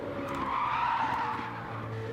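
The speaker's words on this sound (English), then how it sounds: "You just hear the tyre squealing from Revs there, so you know he's pushing." Race car tyres squeal and skid as the car is pushed hard through a corner at Trial Mountain in a Category 2 race, a loud, steady screech lasting about two seconds over a low engine drone, with no voices.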